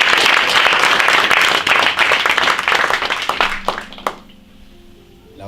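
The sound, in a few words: church congregation applauding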